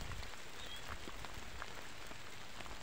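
Rain falling over rice fields in the countryside, a soft, steady hiss of drops with a few brighter patters, faint and even throughout.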